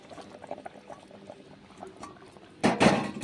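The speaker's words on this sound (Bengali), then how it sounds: "দু এক মিনিট মতন ফুটিয়ে নিলেই ঝোলটা হয়ে যাবে" A light fish curry with fried pointed gourd simmers in a pot, its low bubbling patter growing suddenly louder and more turbulent toward the end as it comes to a vigorous boil.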